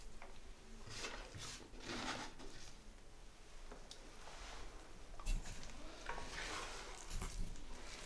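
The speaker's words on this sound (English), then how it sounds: "scatter it around the pan, and then I'm going to mix it all together and make sure that the batter coats it all" Vegetables are stirred and folded into pakora batter in a pan, giving soft, repeated wet scraping and mixing sounds over a faint sizzle, quiet and close.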